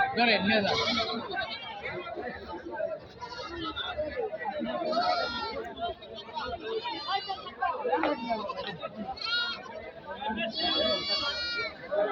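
Goats bleating repeatedly amid a crowded Eid al-Adha goat market in Jamalpur, Gazipur, Bangladesh, with many people chattering and bargaining in the background.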